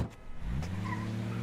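A taxi cab's engine hums as it pulls away from the curb, a low steady rumble that rises slightly and holds for about a second and a half, close by with a faint whine on top.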